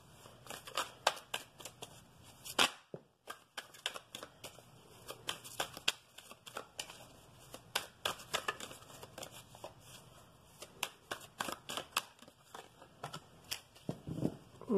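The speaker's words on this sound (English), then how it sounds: "let's get some oracle cards" Oracle cards are shuffled by hand in a quiet room, producing repeated crisp riffling and flicking bursts in an uneven rhythm, with a brief pause near the start and no talking.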